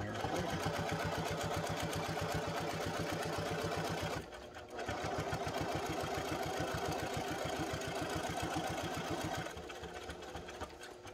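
Sewing machine stitching a fabric postpartum pad, a steady rapid needle chatter running continuously with two brief pauses, close and fairly loud.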